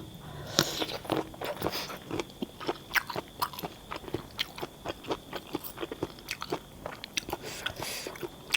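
Crunchy spicy giant squid tentacle salad being chewed up close, a long run of rapid, loud, irregular crunching bites with no talking.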